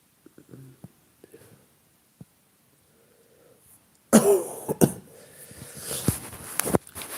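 A person with a cold gives a few short, dry coughs, quiet and close, before a burst of louder rustling and handling noise takes over.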